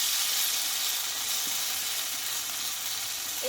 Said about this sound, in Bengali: এইবার বড় চামচে এক চামচ ব্যাটারটা আমি দিয়ে দেবো